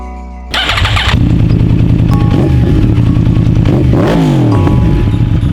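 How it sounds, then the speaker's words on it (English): A Yamaha R1 motorcycle engine fires up with a clatter, then revs hard in repeated sharp bursts that rise and fall, loud and close. "It's a battle of exhaust notes with a rev test starting with the R1."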